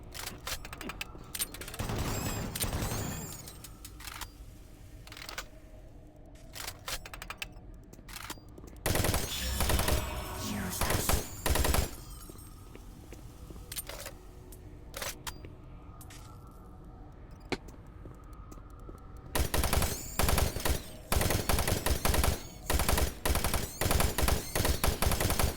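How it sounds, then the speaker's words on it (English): Machine gun fire in the shooter game Doom 3, heard as several loud sustained bursts of rapid shots separated by quieter gaps with faint game noise, the final stretch packed with repeated heavy volleys. "Machine gun's actually not doing so hot."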